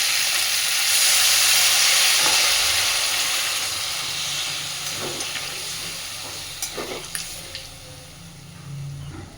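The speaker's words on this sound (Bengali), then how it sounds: "এবার আমি জল দিয়ে দিচ্ছি।" Water is poured into a pan of potato and cauliflower masala fried in oil, giving a loud, steady sizzling hiss that swells early and slowly fades into softer bubbling with a few light clinks.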